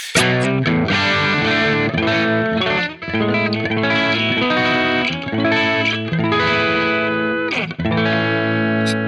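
Distorted electric guitar on the bridge pickup plays a steady stream of chords and notes, thick and compressed, filling the clip without pause.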